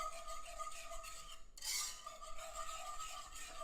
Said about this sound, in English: I'm gonna whisk that together real good.